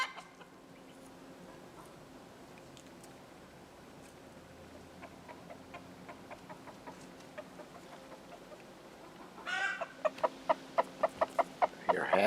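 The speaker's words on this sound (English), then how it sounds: "has made his special clucking noise, which is supposed to let the hen know that he's found something" A rooster gives a run of quick, rhythmic food-call clucks near the end, over a soft outdoor background with faint scattered chicken sounds.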